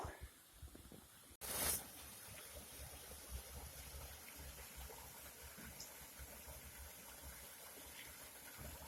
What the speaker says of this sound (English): So this is one of the few remaining waterfalls towards the end of the trail.